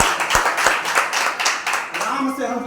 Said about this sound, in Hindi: वाह वाह, ठोको ताली